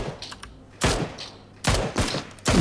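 Gunfire in PUBG Lite: four loud, sharp shots or short bursts spaced irregularly across the moment, each with a ringing tail, over quiet background.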